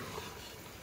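Unseasoned meat browning in a pot on the stove, a soft, faint sizzle with a brief stir or clink at the end.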